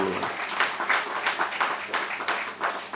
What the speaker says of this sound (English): special clap for him